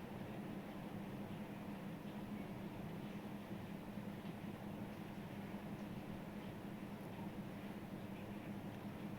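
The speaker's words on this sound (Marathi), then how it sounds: "बसलो ट्रेनमध्ये आम्ही." Steady rumble of a moving train at night heard from inside the carriage, a low continuous roar with even broadband noise throughout and no voices.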